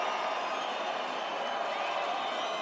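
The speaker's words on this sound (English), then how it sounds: "Vasily, you hear the crowd, the respect they have for the effort." A large arena crowd at the Haney vs Lomachenko boxing bout roars in a sustained, distant wash of cheering and applause, steady and dense throughout, with no distinct voices standing out.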